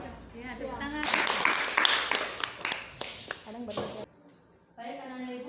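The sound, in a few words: class applauding after a presentation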